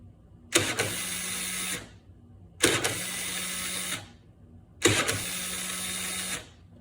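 A weak starter motor on a Honda Spree scooter spins three times in long bursts of about a second each, separated by short silences, whirring loudly and close without turning the engine over. No one speaks.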